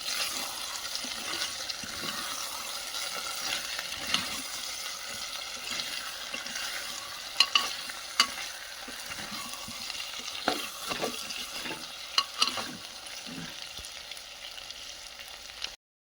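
Potatoes and fish frying in a pan, a steady soft sizzle and bubbling of oil with occasional clinks and scrapes of stirring, close and fairly quiet with no talking.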